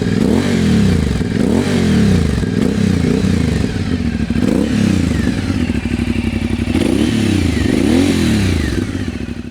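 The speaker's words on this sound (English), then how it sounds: "It's not a super aggressive V-twin. It's got this more low, lopey thing going on" An Aprilia Dorsoduro 900 V-twin motorcycle engine revs up and down repeatedly, loud and close, with a low, lumpy, loping rhythm and a mechanical clatter under each swell.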